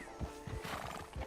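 A horse in the Red Dead Redemption 2 video game neighs and snorts close by, with a few brief bursts over low hoof-like thumps in a busy game soundscape.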